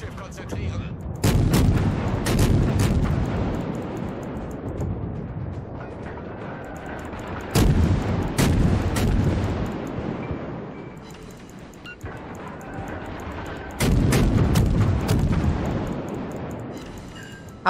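Naval artillery salvos from warships in World of Warships, a series of booming shots in clusters around 1-2, 7.5-8.5 and 14 seconds, each followed by a rumbling decay, loud and close over continuous game ambience.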